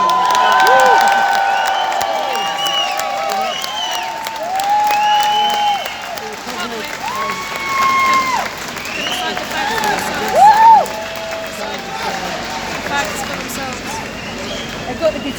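A large outdoor London rally crowd cheers, whistles and applauds for journalist John Pilger, a continuous loud roar of claps and high shouts lasting throughout, with scattered voices mixed in.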